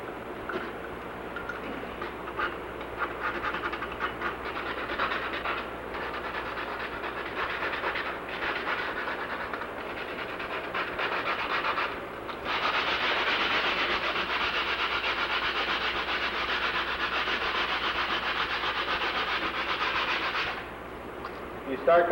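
Gouges in RV fiberglass being roughed up during a delamination repair: a close, continuous abrasive rasping and scrubbing that pauses briefly, then returns louder and steadier.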